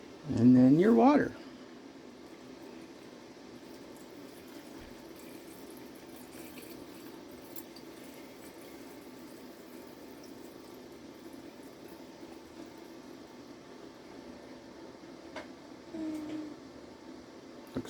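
Water poured into canning jars for homemade cranberry juice, a brief splashing fill at the start followed by quiet room noise with faint handling sounds and a voice nearby.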